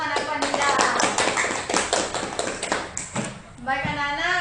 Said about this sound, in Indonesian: Tepuk tangan untuk anak Wanida.